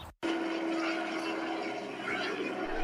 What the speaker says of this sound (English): There is a helicopter coming towards us.